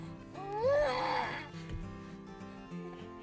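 Six-month-old baby boy babbles with a rising, wavering coo and squeal in the background. Quieter room noise follows, with no clear talk.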